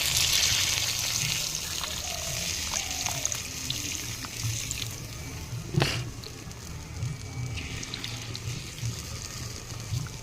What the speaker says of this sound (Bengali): এবারে উপর দিয়ে জল দিয়ে দেবো কিছুটা